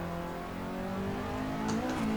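A car engine in the Assetto Corsa racing game, a drift car said to carry an SR20, revs steadily with a droning tone that climbs slightly toward the end, loud and continuous with no speech.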